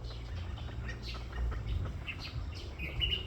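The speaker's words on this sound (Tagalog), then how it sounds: "Ito, mga packet duck." Ducklings on a farm give a steady, busy stream of small peeping chirps at moderate loudness, with scattered higher calls and no voices.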